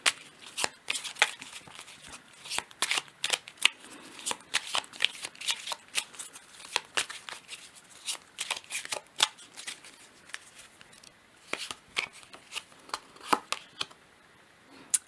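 Oracle cards being shuffled by hand, a long run of quick, soft riffling flicks and slaps in uneven bursts, close but fairly quiet, with no talking.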